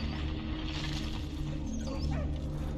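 Dog whimpering with short yips in Valiant Hearts: The Great War, set against a steady low game background hum with high whine-like tones near the end.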